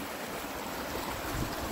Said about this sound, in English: If you didn't hear the creek before, I bet you can now.